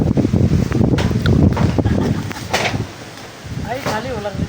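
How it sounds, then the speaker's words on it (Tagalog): Strong wind gusting and buffeting the microphone outdoors while malunggay leaves are picked, roaring loudly under scattered talk from nearby people. "Lakas ng hangin."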